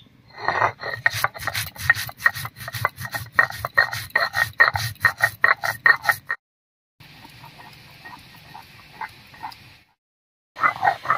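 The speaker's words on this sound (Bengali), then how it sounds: "আর মশলার মধ্যে আমি নিয়েছি 1 চামচ মতো কালো সর্ষে, আর নিয়েছি সামান্য একটুখানি মৌরি, একসঙ্গে করে বেটে নিচ্ছি।" Black mustard seeds and a little fennel ground together into spice paste, making rapid rhythmic rasping strokes up close, then a brief pause, a softer steady rubbing, another pause, and the strokes resuming.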